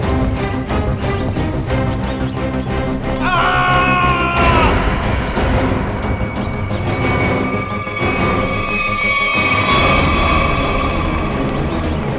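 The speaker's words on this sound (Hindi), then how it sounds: "ये आवाज, ये चीखने की आवाज कहां से?" Several people scream and yell loudly in a crowded outdoor spot where many visitors have gathered, rising and falling over a dense, noisy backdrop with sharp shrieks standing out.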